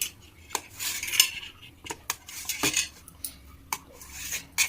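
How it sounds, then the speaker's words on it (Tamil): A knife cutting paneer into cubes on a board, with irregular sharp taps and clinks spaced through the moment, fairly close and with no voices. "இப்போ பன்னீரை கட் பண்ணிக்கலாம்"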